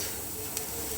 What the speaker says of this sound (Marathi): असा आवाज येतो बघा चर्रकन.